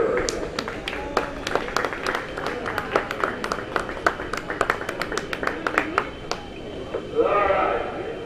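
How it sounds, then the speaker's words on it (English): A crowd at an indoor kart raceway gives a quick round of applause for a kart racer during a race-day awards moment. The scattered claps pop close by and fade after several seconds, with people talking over them. "Round of applause for Smash 7 Forward."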